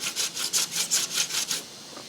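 Coarse sandpaper leveling body filler, eight rhythmic back-and-forth scratchy strokes close by, then stopping, with no talk.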